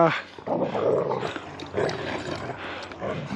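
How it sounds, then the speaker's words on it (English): Excited, wound-up pet dogs wrestle nearby, barking and growling loudly and almost continuously, with a person's voice mixed in. "Gosh, my dogs are wound up."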